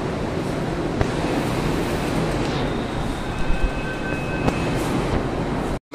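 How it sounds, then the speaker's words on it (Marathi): A Pune metro train at Swargate station gives a loud, steady rumbling roar with occasional clicks and a thin tonal whine, close by, before cutting off abruptly at the end. "बघू शकता मेट्रो आली आहे स्वारगेटची."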